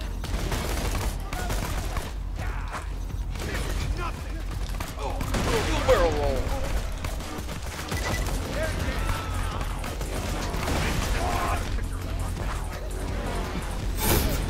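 Chaotic Borderlands 2 combat with thrown guns and gunfire: scattered bursts, clatters and whooshes come and go across a busy stretch, with people talking over the action and a sharp hit right at the end.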